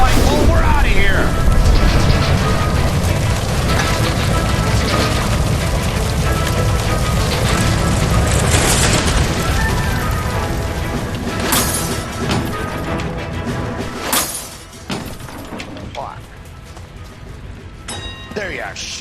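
A gas line explodes inside a building during a shootout in L.A. Noire, a loud sustained roaring blast with crashing debris and sharp bangs that slowly dies down, with shouted voices over the din.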